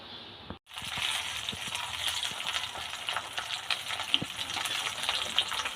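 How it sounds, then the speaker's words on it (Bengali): Loud, steady sizzling and crackling of bata fish frying in hot oil, starting after a brief pause and continuing with small pops throughout. "মাছগুলোকে আমি এইভাবেই উল্টে পাল্টে ভেজে নেব"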